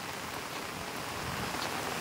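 Heavy rain pours steadily outside a house in a Philippine province during a flood, a dense, even hiss of drops on surfaces filling the whole stretch, close and loud with no voices.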